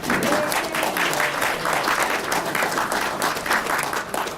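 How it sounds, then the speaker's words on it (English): An audience at an annual kickoff celebration gives a loud, sustained round of applause, dense overlapping clapping filling the room for the whole stretch, with faint crowd murmur underneath. "Round of applause for Jerry, please."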